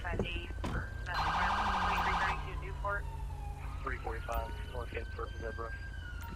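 An ambulance siren in GTA 5 on Los Santos streets, wailing and warbling up close with a loud electronic yelp burst, while someone talks over it.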